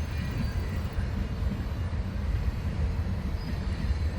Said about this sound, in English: I had to jump out and catch this train.